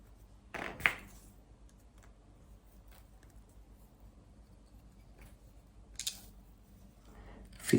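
Plastic hinge jig pieces snap together by hand, a few sharp close clicks spaced apart, one early, a pair around the middle and one at the end, over a quiet room.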